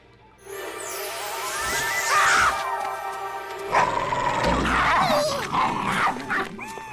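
A dog growls and barks loudly up close in a rough, sustained outburst, the snarling rising and falling over several seconds.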